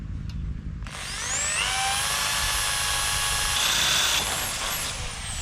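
A power drill spins up and bores into a wooden fence post in a garden, a high whining motor rising after a brief pause and holding steady for several seconds, close and loud.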